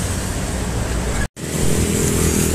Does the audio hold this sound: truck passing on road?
yes